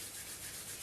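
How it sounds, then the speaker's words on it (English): Hands rub together during a T'ai Chi session, a soft, continuous dry swishing friction heard close and quiet for under a second, with no speech. "Rub the hands together."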